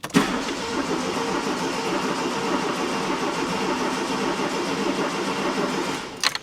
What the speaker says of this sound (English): I just want to give it a crank and just see how it sounds.